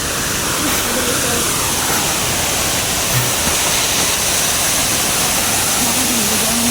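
Waterfall at Inambakan Falls in Calabawan, Ginatilan, Cebu: a steady, loud broadband rush of falling water fills the whole clip without a break, with faint voices now and then.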